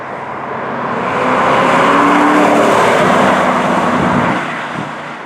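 2005 Ford GT sports car engine while driving, a loud sustained roar that swells up, holds steady and then eases off, heard alone.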